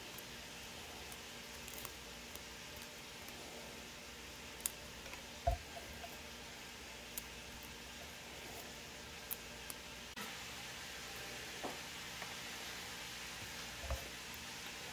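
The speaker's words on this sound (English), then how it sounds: "While the meat is cooking and the onions are sauteing" Meat and onions sizzle together in a pan, a faint steady frying hiss with scattered small ticks and pops, low and continuous with no talking.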